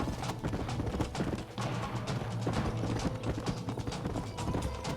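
Horse galloping in the Red Dead Redemption video game, a steady clip-clop of hooves running continuously over a dense, loud game soundscape.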